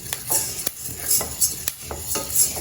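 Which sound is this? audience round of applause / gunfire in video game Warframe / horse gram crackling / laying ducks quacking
horse gram crackling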